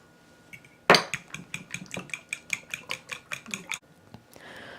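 A fork scrambles eggs in a bowl, starting with a sharp clink and then about a dozen quick, even rhythmic taps against the bowl before it stops.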